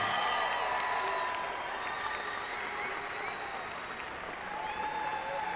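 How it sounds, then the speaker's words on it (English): Crowd applause and cheering at the Reebok CrossFit Games Atlantic Regional women's event as qualifiers are announced, a broad, steady wash of noise in a large arena, with tonal music or announcer sounds running through it. "give a huge round of applause for your 5 representatives to the Reebok CrossFit Games"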